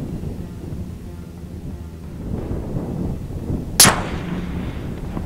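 A rifle shot is fired on a 300-yard long-range range, heard as one sharp, loud crack against a low background rumble.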